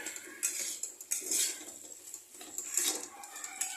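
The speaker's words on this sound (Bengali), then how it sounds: "তো দিয়ে আমি এখন এটাকে খুব করে কষাবো" Chicken is stirred and sautéed in a pan for a chicken jhal: a spoon scrapes and clatters against the metal in irregular bursts, with only a faint sizzle underneath.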